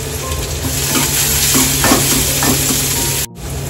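Finely chopped onion sizzles in a hot pan with cumin seeds, stirred now and then, for stuffed eggplant; a loud, close, steady frying hiss with occasional scrapes and a brief dropout near the end.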